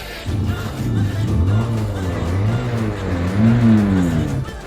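A Hero Xtreme 125R motorcycle engine runs close by, a low droning rumble whose pitch swells and dips with revving for several seconds.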